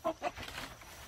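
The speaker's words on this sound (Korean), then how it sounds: "요게 요 청계인데, 여기 사는데" Araucana chickens, green-egg layers, clucking on a small rural farm: two short near clucks open, followed by softer ongoing fowl chatter.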